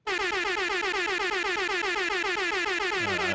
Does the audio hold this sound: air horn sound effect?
yes